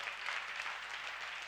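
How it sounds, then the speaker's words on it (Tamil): A church congregation claps during a Sunday service, a soft, steady patter of many hands heard at a distance and fairly faint throughout. "கைத்தட்டு பார்க்கலாம் அந்த நல்ல ஆட்டுக்கு."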